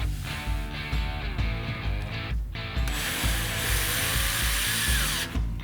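A power drill drives screws into barnwood planks, whirring and ratcheting in short bursts with brief pauses, close and fairly loud, with no talking.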